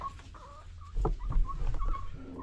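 Chickens kept in battery cages on a small farm cluck and call in a short burst, fairly close, with overlapping bird voices rising after a quiet start.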